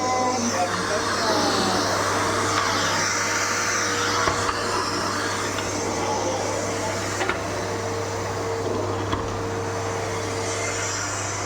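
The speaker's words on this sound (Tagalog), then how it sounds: "Bagong model ng Bosch vacuum." A new Bosch Series 8 vacuum cleaner runs on carpet, a steady, loud motor whine with a constant hum that holds for the whole stretch, with a few faint knocks along the way.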